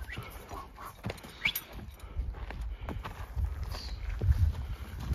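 Horses walked around a farmstead in the Kyrgyz countryside, with faint, irregular hoof thuds and clops against soft ambient noise.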